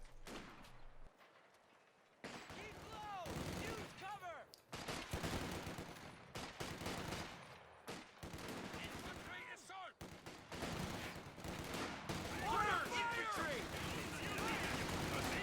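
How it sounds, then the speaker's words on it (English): Rifle volley fire and machine-gun bursts crackle through a Company of Heroes 2 match, with repeated sharp shots and rattling salvos coming in clustered bursts separated by brief lulls, some close and loud, others more distant. "See, volley fire is just trying to stop these assault grenadiers from assaulting"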